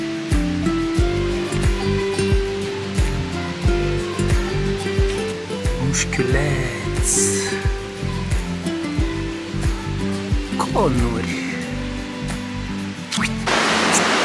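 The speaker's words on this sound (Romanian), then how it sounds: "Pur și simplu mergând pe lângă râul ăsta" A mountain river rushes steadily beside a trail in the Făgăraș Mountains near Valea Sâmbetei, a constant broadband wash of water heard close, partly overlaid by music and a few brief spoken words.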